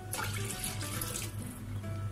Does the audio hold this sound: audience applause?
no